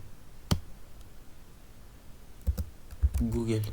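A few separate taps on a computer keyboard, likely as a web address is entered during an HTML tutorial. One sharp click comes early and a small cluster of clicks comes later, and a voice begins speaking at the end.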